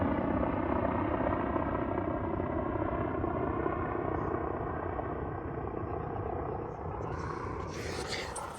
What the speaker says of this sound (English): That's the kind of helicopter you don't want to hear